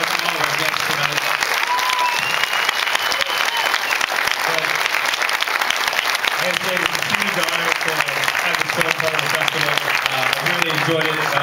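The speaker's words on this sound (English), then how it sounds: "A few round of applause for all our guests tonight" Sustained applause at a film festival Q&A after a Universal Soldier: A New Beginning screening, dense crowd clapping with voices speaking and cheering over it.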